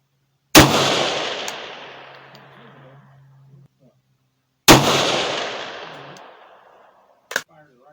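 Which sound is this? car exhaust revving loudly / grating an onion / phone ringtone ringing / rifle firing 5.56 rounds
rifle firing 5.56 rounds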